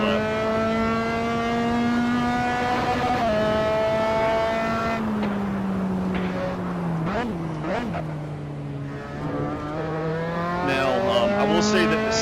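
A Dallara F3 race car in the Assetto Corsa sim racing game whines at high revs, shifts with sharp pitch drops, and squeals its tires through corners, loud and close, with nobody speaking.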